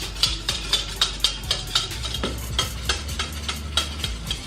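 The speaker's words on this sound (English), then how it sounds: "I'm just gonna mix until I don't really feel any more powder" A utensil stirring a mixture in a bowl to dissolve powder for homemade beignet dough, making about a dozen evenly spaced scraping clinks in a steady rhythm, close and fairly loud, with no talking.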